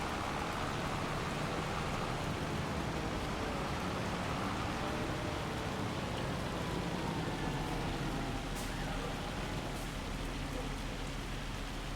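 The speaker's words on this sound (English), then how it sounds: "This hail sucks" Hail falling in the farming video game Riverbend, a dense, continuous wash of pattering impacts at a steady level throughout, like heavy rain drumming on surfaces.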